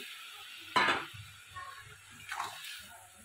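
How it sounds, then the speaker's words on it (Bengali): Fish pieces drop into a boiling spicy Bengali curry, making a sudden splash and hiss, then a quieter sizzle and soft bubbling with faint clinks of a pan. "আমি এবারে মাছগুলো ঢেলে দিলাম"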